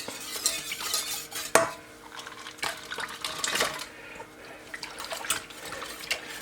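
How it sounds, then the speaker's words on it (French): Chocolate, 70% cocoa, being added to milk warming over very low heat in a pan, with soft stirring scrapes, light clinks of a utensil and faint watery sounds, close and fairly quiet. "Pendant que le lait tiédit, on va ajouter le chocolat."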